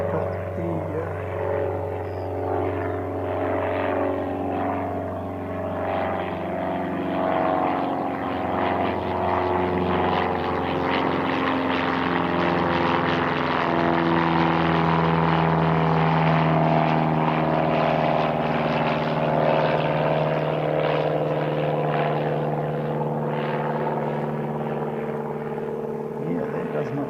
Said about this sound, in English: Engine doesn't sound that great